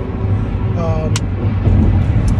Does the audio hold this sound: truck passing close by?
yes